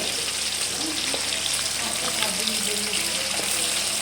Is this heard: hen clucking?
no